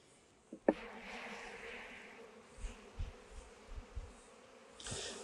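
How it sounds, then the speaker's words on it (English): A low, steady buzz of many honeybees close by as they are shaken off a hive frame, with a sharp knock near the start and soft thumps as the swarm hums on. "It's a good idea to shake all the bees off."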